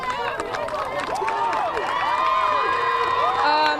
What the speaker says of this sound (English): As you can hear, Byron, they're all cheering right now